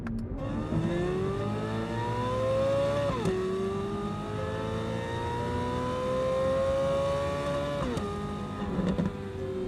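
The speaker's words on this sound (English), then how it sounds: "Oh my God, what an unbelievable engine" A car engine revs steadily upward in pitch, shifting gears twice with brief drops before climbing again, loud and close.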